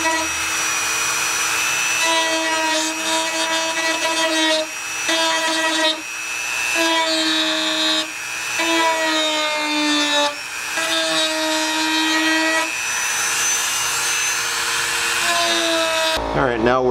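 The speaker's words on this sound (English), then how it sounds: "now we're going to use the Dremel and make another V groove up here so we could coat on the outside" A Dremel rotary tool cuts a V groove into a plastic BMW E39 M5 bumper, giving a steady high-pitched whine that holds for the whole stretch, with brief dips as the bit eases off the bumper and bites again.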